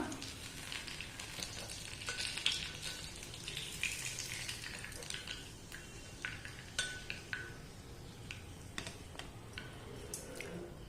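Oil sizzles and crackles continuously as banana fritters fry, while a utensil clinks and scrapes against the pan now and then.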